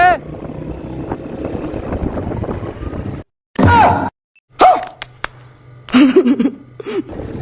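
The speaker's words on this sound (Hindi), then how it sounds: "नसीर चूही तो बहुत तेज़ चला रहे हैं मोटरसाइकिल" A motorcycle ridden fast through Lahore: a steady rush of engine drone and wind buffeting for about three seconds, then broken bursts of engine noise and wind with voices in between.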